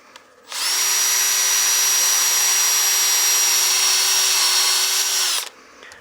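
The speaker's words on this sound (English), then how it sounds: "Again, you slow your speed down for sanding. Right now we're at about 500 RPM, 600." A wood lathe spins at about 500 to 600 RPM while a turned cake stand is sanded, giving a steady high whine with abrasive hiss that starts, holds evenly for about five seconds, then stops.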